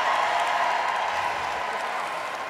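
A crowd at a Sport Relief athletics event keeps up a steady roar of cheering and clapping, loud and unbroken, easing slightly toward the end.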